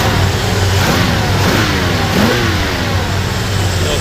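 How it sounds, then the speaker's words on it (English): A 1966 Buick Skylark GS convertible engine revs up from idle, a loud, close burst of throttle rising and falling over a few seconds with no talking. "Go ahead and rev it up a little bit."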